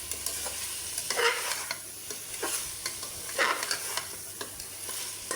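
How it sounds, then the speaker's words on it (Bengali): Taro roots sauté in a spiced pan, a soft steady sizzle broken by repeated scraping stirs of a spoon against the pan, close and moderately quiet with no talking. "এবার গাঠিগুলোকেও কষিয়ে নেব।"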